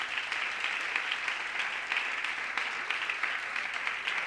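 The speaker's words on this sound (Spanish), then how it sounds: "Dale un fuerte aplauso al Señor en esta mañana." A church congregation gives a sustained round of applause at a Sunday morning service, a dense, even wash of many hands clapping that fills the room without voices over it.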